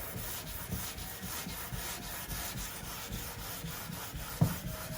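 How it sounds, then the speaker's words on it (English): Steady back-and-forth rubbing of a hand sanding block on guide-coated body filler, close and continuous, with one sharp knock near the end. "I'm holding the block in all different directions and sanding in all different directions."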